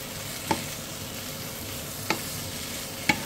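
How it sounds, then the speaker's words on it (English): Potatoes being stirred into a sizzling goat curry: a steady soft fry hiss with three sharp spoon knocks against the pan, close and fairly quiet. "we're going to go back in now with the potatoes, give them"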